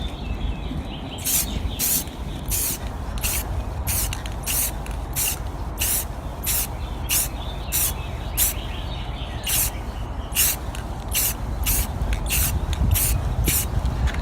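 Short bursts of spray from a can lay light coats onto a car headlight on a 240sx S14, with more than a dozen evenly paced hisses of about half a second each, close up over a steady background hum.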